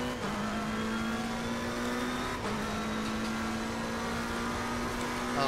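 A race car engine in the video game Assetto Corsa Competizione drones loudly and steadily, holding a high whining pitch with a brief dip near the middle, no voices over it.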